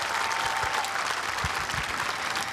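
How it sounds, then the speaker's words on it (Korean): Crowd at the 10th-anniversary memorial ceremony for former president Roh Moo-hyun in Bongha gives a long, steady round of applause, heard at a moderate distance as a soft, continuous patter of many hands. "다시 한번 뜨거운 박수 부탁드리겠습니다."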